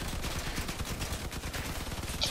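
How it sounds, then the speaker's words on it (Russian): Rapid gunfire in the game Crossout crackles in a dense, continuous burst, mixed with noisy battle sounds, fairly quiet overall. "От нас выстрел."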